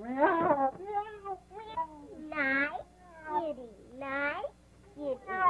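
A cat meows repeatedly at close range in a 1936 film scene, several drawn-out, wavering calls with short pauses between them.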